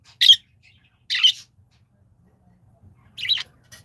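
Pet birds give three short bursts of shrill chirps and squawks, spaced apart by quiet gaps, close and fairly clear with no talk.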